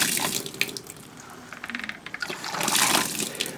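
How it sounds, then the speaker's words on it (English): Water gushing from a Guzzler hand pump drawing from a well more than 20 feet deep, coming in uneven surges as the handle is worked, close and fairly loud with no talking. "you pull it up, you suck the water in, and it comes out the other side"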